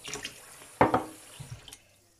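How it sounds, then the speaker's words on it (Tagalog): A kitchen tap runs briefly while water is measured out for cooking, a short splashing gush into a container followed by a few faint drips, close and fairly quiet. "lagyan natin ng tubig. 3 baso ang lagay nating tubig."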